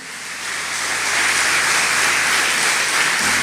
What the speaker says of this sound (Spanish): Fuerte para Jesús y vas a aplaudirle a Él.